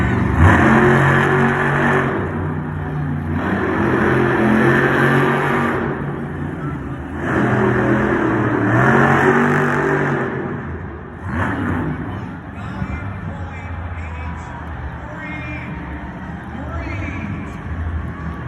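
A Monster Jam truck, Raminator, revs its engine inside an indoor arena, loud surges rising and falling in several bursts, with a crowd and an announcer's voice heard over it.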